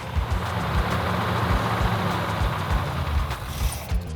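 A 1970 Plymouth 'Cuda's Mopar V8 idles close by with a low, lumpy rumble and uneven pulsing beats that hold steady throughout, with no voices over it.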